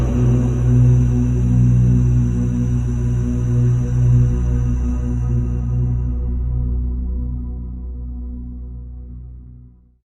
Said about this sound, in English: Heart chakra mantra is Yam